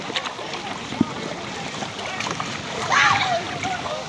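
Water splashing around a small boat, a burst of splashing rising over steady outdoor water noise with a brief knock early on; excited voices talk in the background.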